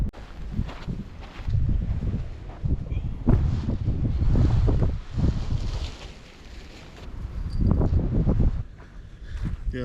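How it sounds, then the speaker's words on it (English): Strong wind gusting across an exposed stretch of the Pacific Crest Trail, a loud, continuous buffeting roar battering the microphone and rising and falling in waves throughout. "This is a lot of wind coming in right through here and not near as protected."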